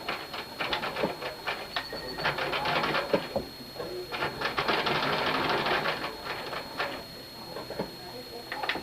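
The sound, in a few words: sewing machine sewing a straight stitch on a surgical cap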